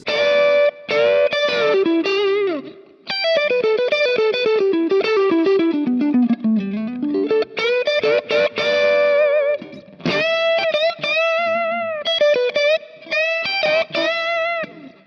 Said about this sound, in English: This one is pretty, I'd say it's a pretty bright profile, but it's very clean.